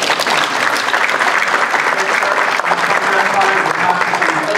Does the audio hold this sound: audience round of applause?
yes